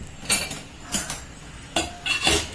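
Metal spoon clinks and scrapes against a bowl as cardamom and nutmeg powder are stirred into a jaggery filling, four separate bursts of clatter at close range.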